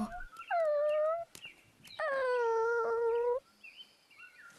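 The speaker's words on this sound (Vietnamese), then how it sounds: "chính là con chó nhỏ này" A small puppy in an animated Buddhist film whimpers in two long, high, wavering cries separated by a short pause, followed by faint softer whines; it is heard close and alone, without talk.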